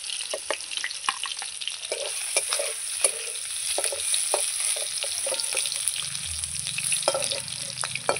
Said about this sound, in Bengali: পনিরটা ভাজা হয়ে গেছে,